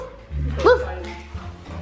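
A pet dog gives a single short bark and whimper close by, mixed in with people talking in a home kitchen while donuts are being made.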